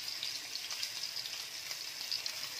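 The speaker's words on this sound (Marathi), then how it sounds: "पॉपलेट आता तेलामध्ये असं तळून घ्यायचं आहे।" Pomfret fish fries in hot oil, giving off a steady bright sizzle with small popping crackles throughout, close and continuous with no voices.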